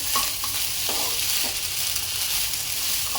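Egg pulao being mixed with mint and coriander in a hot pan, with repeated spoon scrapes over a steady close frying sizzle and no talking.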